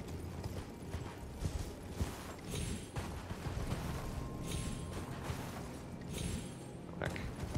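Horse hooves clip-clop in Elden Ring: Shadow of the Erdtree as a steed climbs, soft repeated thuds and scuffs under quiet ambient game sound and occasional chimes.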